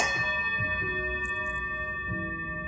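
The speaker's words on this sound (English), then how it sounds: "You're going to hear another bell again." A single bell struck during a crystal grounding ritual, a clear ringing tone with long sustained overtones slowly fading, heard alone in a quiet room.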